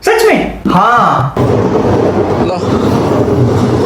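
Loud rumble and rattling roar of a train passing close by, starting with a squealing, wavering tone before settling into a steady clatter.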